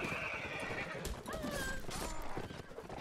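Horse neighing in the Mount & Blade: Warband battle game, a loud whinny with drawn-out pitch wavers over hoofbeats and general battle noise.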